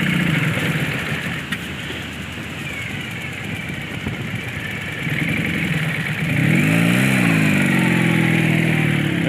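A motorcycle engine stuck in soft beach sand on Daytona Beach runs loudly and close, idling and revving unevenly, with the pitch rising and wavering as the throttle opens near the end.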